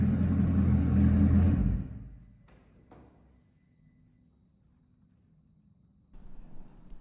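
A Bugatti Bolide at first start-up gives a loud, deep, low engine rumble that cuts off abruptly, followed by near silence with a couple of sharp clicks, then a fainter rumble returning at the end.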